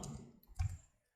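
Computer mouse double-clicking during a Google Sheets tutorial: a couple of quiet, close clicks in a near-silent room, with no talk over them.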